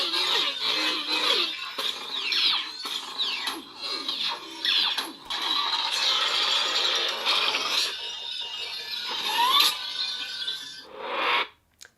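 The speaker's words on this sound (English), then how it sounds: "This is a Transformers-inspired sound font." Neopixel lightsaber running a Transformers-inspired sound font, with a steady bright hum overlaid by sweeping, squealing mechanical whirs, clicks and rattles like shifting machinery throughout, ending in a rising sweep and a short cutoff.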